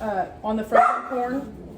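A dog barks and yips close by, a few sharp bursts overlapping a person speaking.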